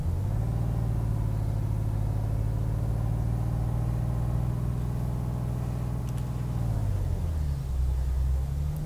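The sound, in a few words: truck engine pulling away in first gear, Euro Truck Simulator 2 video game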